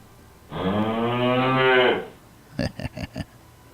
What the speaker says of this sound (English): So let's cue the cow.